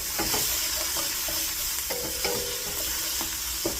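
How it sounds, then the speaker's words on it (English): Vegetables, including onions, are stirred in a hot pan over a steady sizzle. A few scraping strokes of the utensil stand out against the constant frying hiss, close up and with no talk. "Let me stir the vegetables."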